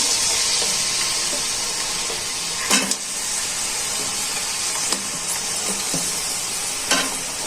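Chopped onions sizzle steadily in hot oil in a kadai as a Bengali prawn and spinach dish begins, a dense continuous hiss with a few sharper pops and stirring scrapes, close and alone.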